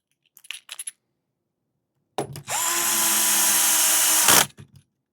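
A few small metallic clicks of 8mm screws and parts being handled, then a power screwdriver whirs steadily for about two seconds as a screw is driven into an RC car chassis, ending with faint clicks.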